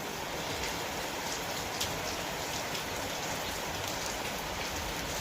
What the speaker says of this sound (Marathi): आज पाऊस सुरू झाली पावसाला पावसाला सुरुवात झाली चांगल्या पद्धतीने